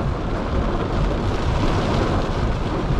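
Heavy, typhoon-like rain pounds a new Toyota Prius on a night drive, a dense, loud and unbroken roar of water on the car with no pauses.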